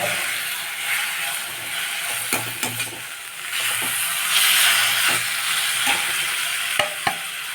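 Tomatoes sauté with fennel and turmeric in a pan for an ivy gourd curry, giving a steady close sizzle with scattered clicks and scrapes of stirring and a louder hiss swelling midway.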